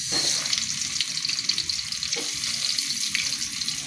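Onions sizzling in a pan alongside jumbo hotdogs, a steady bright crackling hiss that runs continuously at moderate loudness, close by, with no voices.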